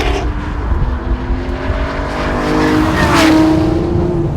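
An Aston Martin V12 Vantage S driven hard on a slippery track, its engine note droning steadily and building in pitch and loudness toward the end, with faint tire noise and no talking.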